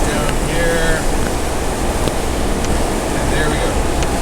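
Muddy brown rainwater rushes down a roadside ditch during rain on snow near the Zeballos River, a steady close broadband wash with faint chirps and ticks on top.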